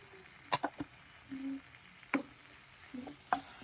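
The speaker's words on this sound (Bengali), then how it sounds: "এখন এটাকে আমরা নেড়ে ছেড়ে নিচ্ছি যতক্ষণ আপনাদের সাথে দেখা হচ্ছে" Red chili powder fries in a pan for chili chicken while being stirred, with a faint low sizzle and a handful of crisp spatula taps and scrapes at uneven intervals.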